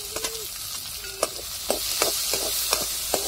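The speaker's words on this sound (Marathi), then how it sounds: "आणि कांदा आपल्याला चांगला लालसर परतून घ्यायचा आहे." Chopped onion sizzles in hot oil with a garlic, cumin and mustard-seed tadka for dhaba-style dal, a steady close hiss broken by several sharp clicks of stirring.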